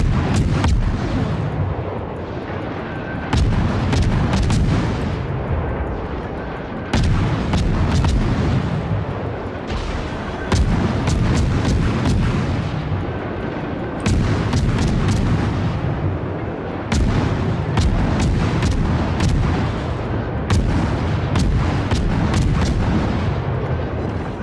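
The warship USS Kidd fires its naval guns in a video game. Heavy booming shots repeat at a steady rhythm every few seconds, loud and close, over a continuous low rumble.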